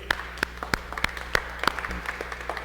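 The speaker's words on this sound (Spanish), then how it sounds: "Fuerte aplauso para ellos." Sparse, fairly quiet applause from a church congregation for the people at the front, with individual claps sounding at a slow, uneven pace over a low steady hum.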